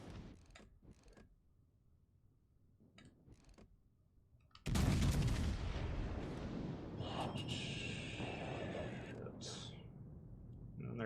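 Naval gun salvos from World of Warships Legends warships come in as a heavy booming blast midway, trailed by a sustained rumbling roar and scattered mechanical clatter, preceded by quieter speech and faint noises.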